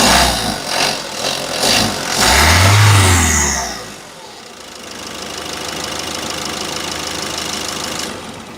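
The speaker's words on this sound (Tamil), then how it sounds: "அப்படியே இந்த வெஹிக்கிளை உங்களுக்கு ஸ்டார்ட் பண்ணி காட்டிடுறேன்" A Ford Figo diesel engine cranks and catches with a loud roar, then settles into a steady, close idle.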